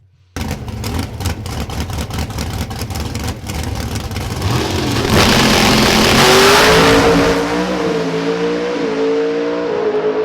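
Extreme Pro Stock drag cars at the PDRA World Finals, a sharp staccato engine crackle rising into a sustained, roaring full-throttle run with a climbing pitch, very loud and close, then easing off as they pass, with no talking.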